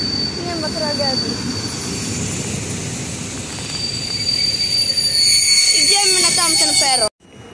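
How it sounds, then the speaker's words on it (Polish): A train hauled by a locomotive rolls into a station in Kołobrzeg, Poland, with a loud, steady rumble and high metallic wheel squeals that build before the sound cuts off abruptly. "taka lokomotywa przyjechała"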